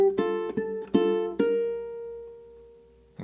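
Ukulele plucking the flamenco Malagueña bass line for measure 12: four quick plucked notes in an uneven rhythm, the last left ringing and slowly fading, close and alone.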